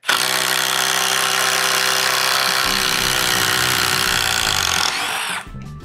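A power drill spins out a structural 1/4 by 6 inch Torx T30 lag screw, a steady loud whirring grind that holds for about five seconds before winding down and stopping.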